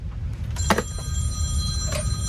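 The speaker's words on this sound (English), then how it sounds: "The phones are ringing." A telephone inside an antique center rings in a short, bright electronic trill with a second burst close behind, over a low background hum.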